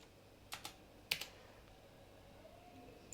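A handful of quiet clicks from typing on a computer keyboard: a quick pair of keystrokes, then another pair, and a last tap after a pause, all in a near-silent room.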